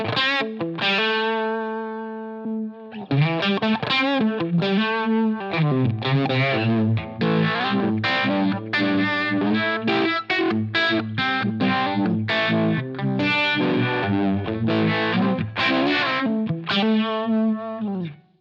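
Electric guitar through a Uni-Vibe style modulation effect modeled on a Line 6 Helix, with a swirling, pulsing tone, distorted and loud, playing sustained notes then busy lines and chords with no talking.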